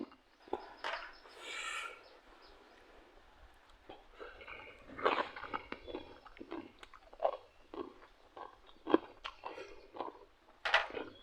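Someone eating som tam papaya salad, with close, crisp crunching and chewing bites that repeat irregularly against a quiet background.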